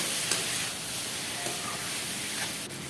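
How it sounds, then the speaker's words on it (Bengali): Vegetables sizzle and hiss steadily while being stirred in a pan for a healthy roti-and-vegetable tiffin, a continuous close, moderate frying noise with faint scraping. "সবজিগুলো আবারও খুব ভালো করে নাড়ি আমি এখানে মেশাই নেব।"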